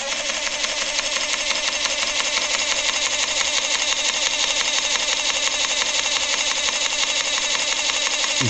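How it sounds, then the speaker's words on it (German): Smoke generator on a model paddle steamer running with a steady, continuous motorized hum at close range, unbroken and even in level throughout with no voices. "Starten wir den Rauchgenerator."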